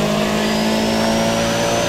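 Nissan S13 engine roaring steadily at high revs while racing in Need for Speed ProStreet, a loud, sustained drone with a faint tire squeal edge and no talking.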